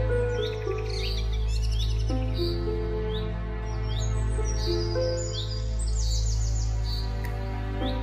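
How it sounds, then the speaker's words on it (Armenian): Morning birdsong from birds among tall village trees: bright, scattered chirps and short whistled calls repeating over a steady low humming drone, moderately close, with no talking. "թռչունները երգում էին առավոտյան"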